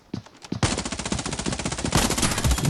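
Automatic gunfire from a battle royale video game, ScarFall 2.0, starts with a few single shots, then breaks into sustained rapid bursts that grow louder and denser near the end.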